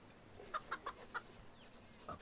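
In the video game CHKN, a chibi chicken gives a quick run of four or five short, soft clucks followed by one more after a pause. The clucking is quiet and sits over a faint game background.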